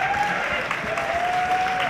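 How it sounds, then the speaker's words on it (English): Audience applause at an NFT art conference talk, a soft, even patter of clapping from a crowd, steady and fairly distant with no voices over it. "can everyone give a round of applause?"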